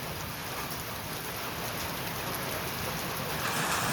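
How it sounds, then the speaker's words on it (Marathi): Heavy rain pours down steadily in a dense, continuous hiss, loud and close throughout, during a monsoon bike trip in the Konkan region. "जबरदस्त पाऊस लागता."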